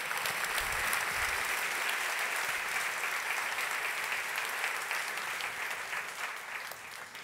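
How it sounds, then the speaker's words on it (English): Sustained applause from a conference keynote audience at a party session, a thick even roar of clapping that holds for several seconds and slowly fades toward the end. "give her one more round of applause"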